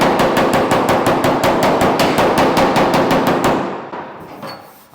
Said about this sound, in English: Where is the body hammer?